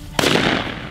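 A single loud shotgun blast rings out close by during a quail hunt in a soggy bottom, its sharp report followed by a decaying rumble.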